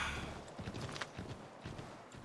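Horse hooves in Assassin's Creed 3, a steady clopping gallop running through the whole stretch, fairly loud and close with busy game sound around it.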